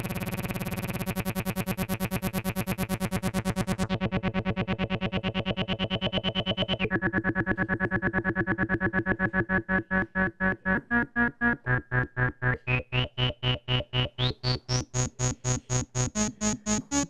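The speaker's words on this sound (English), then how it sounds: "So I'm turning up the modulation slider on our filter." A buzzing synthesizer tone whose filter is swept by an LFO, with the brightness shifting in steps and then pulsing in rapid rhythmic chops toward the end. It is loud and continuous, with no voice.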